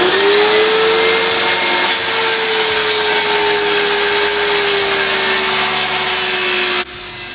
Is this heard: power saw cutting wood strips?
yes